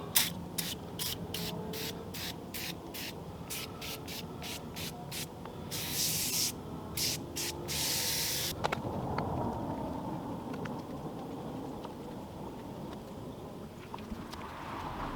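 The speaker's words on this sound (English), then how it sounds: "We're going to spray this down with the aerosol." Short hissing bursts of aerosol spray on a dirty car repeat in quick rhythm, then two longer sprays, followed by quieter rubbing and faint clicks.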